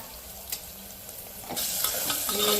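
Chopped onions fry in a hot pan with salt and turmeric for a village-style goat intestine dish. A steady close sizzle is broken by soft stirring scrapes, and the frying grows noticeably louder and brighter partway through.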